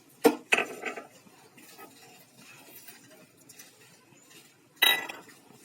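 A spoon clinks against a pot while sugar, jaggery, cardamom and fennel are stirred into boiled lentils: a few sharp metallic taps near the start, a quiet scraping pause, then one more clink near the end.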